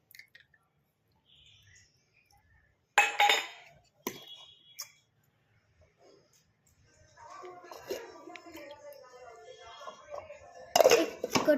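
A lid clinking against kitchen bowls and dishes, a few sharp metallic clinks and knocks spaced apart, close and fairly loud, with a voice talking in between.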